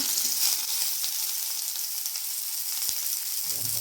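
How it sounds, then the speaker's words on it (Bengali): Chopped onion fries in hot oil for a stuffed paratha filling, giving a steady, close, bright sizzle that continues throughout with no speech. "এবার দেখো সামান্য তেল নিয়ে নিয়েছি, তেলের মধ্যে দিয়ে দেবো প্রথমে একটু পেঁয়াজ কুচি।"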